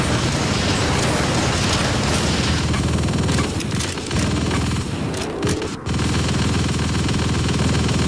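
Machine gun fire from a turret in the vehicular combat game Chaos on Wheels, a dense sustained rattle of rapid bursts mixed with engine drone, briefly broken by a couple of short dips before the loud barrage resumes.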